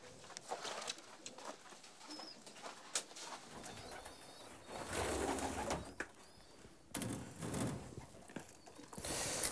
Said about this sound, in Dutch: Hier zie je dus het moment dat de duiven uit de wagen komen.